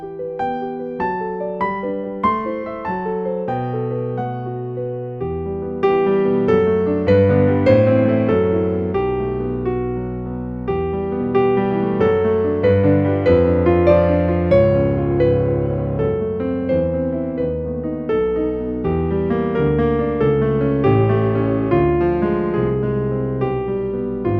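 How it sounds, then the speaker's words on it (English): A Casio PX-S1100 or PX-S5000 digital piano plays on its concert grand voice, a continuous solo passage of chords and melody, clear and close with sustained ringing notes and no talking. "here's an example of the first piano sound that you get when you switch both instruments on, and that's the sound of the concert grand."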